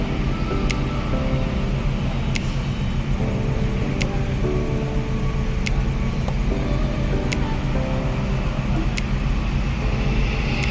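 Buses roll onto a ferry at the executive pier of Bakauheni port at night, a steady low engine rumble and droning motors with occasional faint clicks and knocks throughout.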